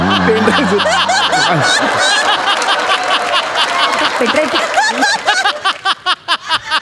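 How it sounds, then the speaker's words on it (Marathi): Audience laughter and clapping at a Marathi stage comedy show; talk and chuckles open the clip, then a run of steady rhythmic hand claps builds toward the end. "इथे टाळी द्या."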